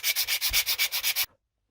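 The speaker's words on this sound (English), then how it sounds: "you just want to sand that bit a bit flat" Sandpaper rubs the flat base of an epoxy resin candle holder in eight quick, rhythmic back-and-forth strokes, close and clear, then stops abruptly into silence.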